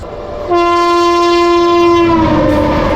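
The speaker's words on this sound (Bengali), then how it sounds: "নশো নব্বই কিলোমিটার পথ অতিক্রম করে আমাদের ট্রেন চলে এসছে কামাখ্যা জংশনে" The Saraighat Express (12345), on its Howrah to Guwahati run, sounds a loud, sustained horn blast of about two seconds as it arrives at Kamakhya Junction, over steady rail rumble.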